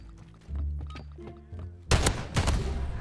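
Gunfire from a Modern Warfare 3 multiplayer match: after quieter game sounds and voices, a loud rapid burst of shots erupts and keeps rattling with heavy thuds.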